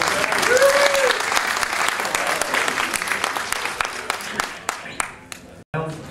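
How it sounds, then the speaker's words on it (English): A room full of people at a presentation breaks into loud applause with some cheering and voices. The clapping thins out and stops near the end, then talk resumes. "everybody give Greg a round of applause"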